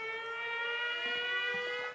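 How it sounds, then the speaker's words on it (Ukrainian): Civil defense air raid siren wailing steadily with a strong harmonic drone throughout, heard alone in wartime Ukraine and ending abruptly. "Це що, повітряна тривога?"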